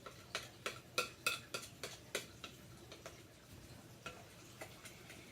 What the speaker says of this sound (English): so I'm just going to keep stirring it until the rest melt